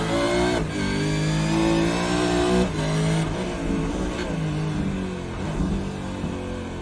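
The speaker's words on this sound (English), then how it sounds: "On board the Mustang for a quick lap with Blake Urquhart" Mustang Supercar in iRacing at Oran Park Raceway, heard on board during a lap: loud, continuous engine roar with rising revs, sharp gear-change dips and repeated acceleration, close and dominant throughout.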